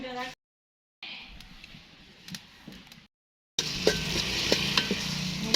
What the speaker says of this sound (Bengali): মাংস রান্না করার জন্য পেঁয়াজ দিয়ে দিচ্ছি